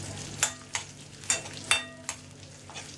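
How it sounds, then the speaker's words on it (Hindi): Dried red chilies and chopped ginger roasting on medium heat in a pan, with a handful of sharp scraping stir strokes spaced irregularly over a low, steady background hum. "रेड चिली, सूखी हुई रेड चिली और जिंजर, कटा हुआ जिंजर। उसको हम सेकेंगे मीडियम हीट पे"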